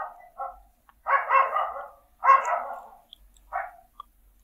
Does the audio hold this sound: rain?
no